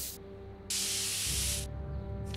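In the Back to the Future game, a spray can is sprayed onto a wooden board, making two loud, sustained hissing bursts of about a second each, with a faint start of a third.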